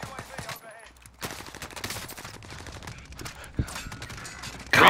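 An Owen submachine gun fires in a shooter video game as quick, close bursts with sharp cracks, mixed with some talking.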